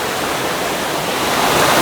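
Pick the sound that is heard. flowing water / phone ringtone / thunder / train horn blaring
flowing water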